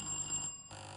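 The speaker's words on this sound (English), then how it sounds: "So let me hear your bell" Buzzer bells for contestants at a school science and maths quiz contest give one steady electronic ringing tone. It is fairly loud and continuous, with a brief drop in the middle, and there is no talk over it.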